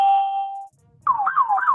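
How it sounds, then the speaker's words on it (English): A police siren wails loudly: a steady tone, a brief gap, then a rising and falling warble, close and clear, approaching. "you hear them sirens coming in quick now"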